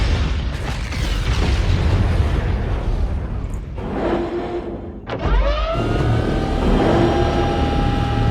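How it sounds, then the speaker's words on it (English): A loud film explosion from Dune Part Two rumbles and roars in a sustained blast with a sharp burst midway, followed by ringing metallic and tonal debris sounds, filling the scene with no talk. "Nice explosion to break up my thoughts."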